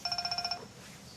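A telephone rings in a rapid burst of about nine warbling electronic pulses, moderately close, then stops and leaves quiet room tone.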